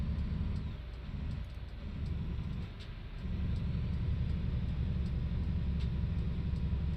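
A base-game truck engine in American Truck Simulator rumbles steadily and close, a deep low drone that dips briefly near the start and then holds strong, with no one talking.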